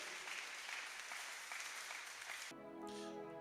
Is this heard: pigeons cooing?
no